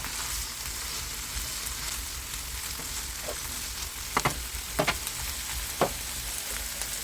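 Shrimp and tri-color peppers stir-frying in a pan, a steady close hiss of sizzling oil punctuated by a few sharp ticks and pops, with no talk.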